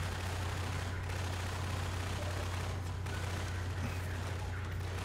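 Gunfire in the video game Half-Life 2 comes as dense, continuous bursts of rapid shots that fill the whole stretch at a steady, loud level.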